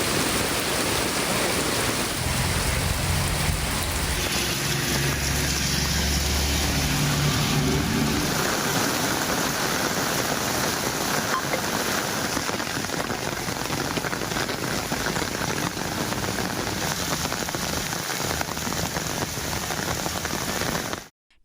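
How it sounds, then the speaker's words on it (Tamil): Heavy rain pours in Tamil Nadu around Chennai, making a dense, steady hiss of drops on surfaces that stays loud and unbroken throughout before cutting off at the end. "கனமழை பெய்தது"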